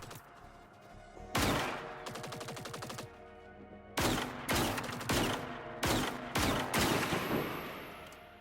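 An experimental PVG sniper weapon firing in a video game, several loud, sharp shots spaced about a second apart, some with a quick rattling burst and ringing tail.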